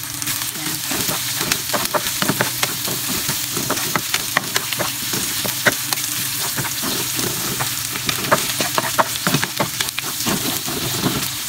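Sausage and garlic frying in a pan for macaroni soup, a close, continuous sizzle broken by frequent sharp crackles and stirring clicks, with no voice over it.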